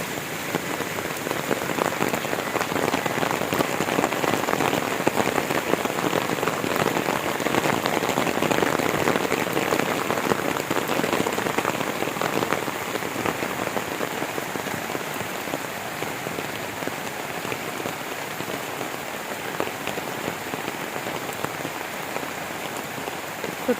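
Steady rain falls on a deer farm on a wet day, a continuous dense hiss of drops on surfaces that holds evenly at a close, moderate level throughout with no voices.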